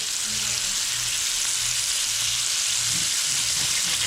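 Shrimp frying in a pan with a steady loud sizzle and hiss, low rumbling underneath, no talking.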